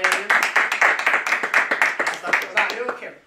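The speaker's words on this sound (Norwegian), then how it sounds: "Skal vi ta applaus til 30-dagen?" Applause from a small podcast group in a studio, a few people clapping in a quick, uneven patter at close range, with voices mixed in underneath.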